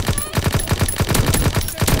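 Suppressed submachine gun in Call of Duty WWII firing a steady rapid stream of muffled, thudding shots at close range for about two seconds, with no talk.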